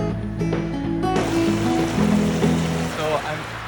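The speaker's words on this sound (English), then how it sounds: "Standing in the middle of the river." River water rushes steadily around a person wading mid-stream, a continuous broadband wash with low droning hum underneath, fairly close and even throughout.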